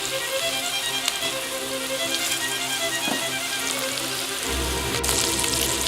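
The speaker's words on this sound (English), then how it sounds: "You want to sear them good on both sides." Meatballs searing in a frying pan sizzle steadily up close, with a few small clinks and a deeper rumble joining near the end; no one speaks.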